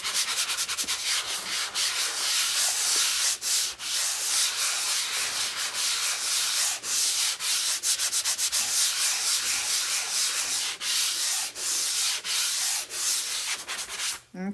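A sanding block rubs back and forth along the edge of a wooden door hanger in fast, steady, close strokes with a dry, gritty hiss.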